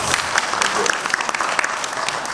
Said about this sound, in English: Applause dulu dong buat Alex.